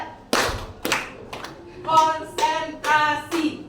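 A school class claps in a counting chant: a few sharp, separate group claps, then shouted chant responses from many voices alternating with more claps.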